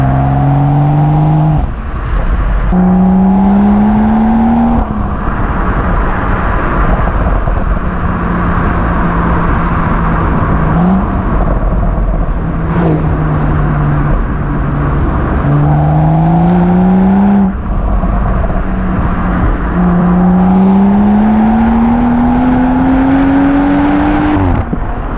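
A turbocharged BMW M135i accelerating hard, its exhaust note climbing through the revs, dropping at each gear change, then climbing again across several pulls, loud and close.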